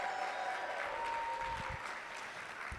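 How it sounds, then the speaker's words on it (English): Audience at a music-industry conference breaking into sustained applause, dense steady clapping from a large crowd that fills the room and fades slightly toward the end. "Please give it a round of applause."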